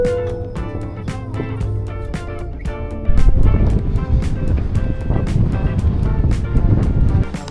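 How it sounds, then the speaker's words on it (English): Strong wind buffets the microphone on the open apron of a small outback airport at Birdsville, a loud, constant rushing roar that swells heavier halfway through, with sharp ticking clicks scattered over it. "It's really windy."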